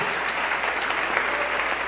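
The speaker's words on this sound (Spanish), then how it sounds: "Dale un aplauso al Rey" A congregation applauds during a Spanish-language church sermon about the millennial kingdom, a steady, dense patter of many hands clapping at moderate volume with no voices over it.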